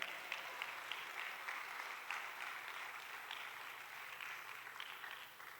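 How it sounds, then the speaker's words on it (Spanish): A church congregation claps for the Lord during a Spanish-language sermon, a faint, distant, even patter of many hands running steadily through the whole stretch. "Denle un aplauso al Señor, hermano"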